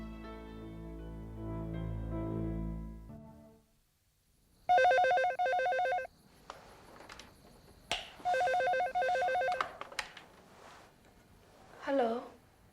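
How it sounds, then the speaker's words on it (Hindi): A telephone rings in repeated electronic bursts, two clear ring pulses with a pause between them, following a stretch of music and preceding a person answering. "आशीष, तुम क्यों फोन किया तुमने?"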